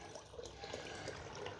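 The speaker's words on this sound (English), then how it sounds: "You see the water flow running down the sides there." Water from an overflowing koi pond runs down its sides, a steady, continuous trickling and splashing wash with no pauses, close by and moderately quiet.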